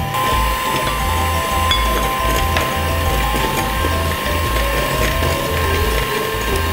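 An electric mixer at medium speed whisks pancake batter in a bowl, a continuous motor whir close by with a busy rattling, clacking beat from the beaters throughout.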